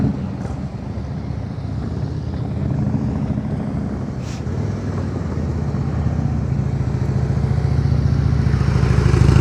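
A motorcycle rumbling through slow-speed tight turns in a practice session, its low engine drone continuous and swelling gradually louder toward the end, with no talking.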